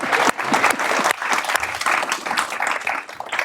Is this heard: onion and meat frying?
no